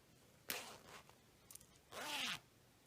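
Zipper on a handmade crocheted bag pouch being worked, heard as a few short scratchy zips and a longer rising pull near the end, close and quiet with no talking.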